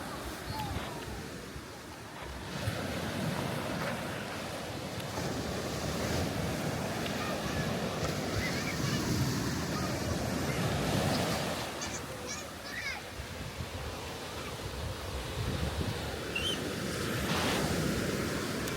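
Sea surf washes steadily onto a pebbly shingle beach in Brighton, with a constant low roar of waves and gusting wind buffeting the microphone, and no talk over it.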